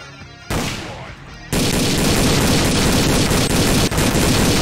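Dense, sustained gunfire in the video game Xenus: Boiling Point (Road to Hell), loud and continuous, with rapid automatic bursts that fill the whole clip after a brief quieter start.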